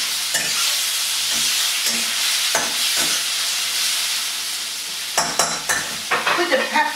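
Salmon fried rice tossed and stirred in a hot pan, a steady sizzling hiss broken by several sharp scraping tosses, quickening into a busy cluster of clattering strokes near the end, with no voices.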